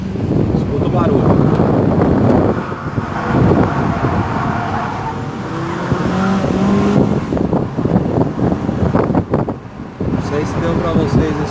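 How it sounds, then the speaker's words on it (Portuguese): A Honda Civic engine roars loudly and steadily as it accelerates hard on automatic kick-down, with wind noise and someone talking over it. "Vou dar um kick-down aqui agora, que vai ser legal. Escuta o barulho."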